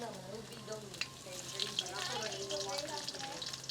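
Skin-on garlic sautés in a pan at an outdoor cook, giving a soft steady sizzle with light stirring clinks. A person talks over it.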